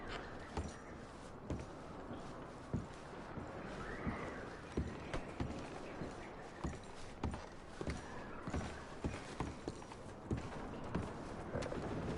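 Horses in the video game Red Dead Redemption 2 clip-clop with hooves striking at a slow, regular pace over a soft ambient bed, fairly close and quiet, with no talking.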